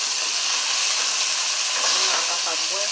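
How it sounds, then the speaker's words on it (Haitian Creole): Meat browning in hot oil in a cooking pot while making a Haitian okra sauce, giving a steady, loud hiss and sizzle throughout, with faint crackles popping on top near the end. "Ça, c'est la viande qui prend couleur là."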